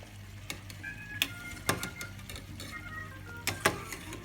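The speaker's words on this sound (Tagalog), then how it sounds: "Haluin natin para hindi siya dumikit." A utensil stirs pasta in a pot of boiling water, scraping in irregular knocks and clinks over a faint bubbling background, with no voices.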